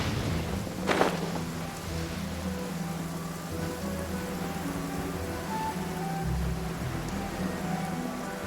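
Steady rain in the video game Genshin Impact, an even hiss of falling water with a low rumbling undertone and one brief sharper crack near the start.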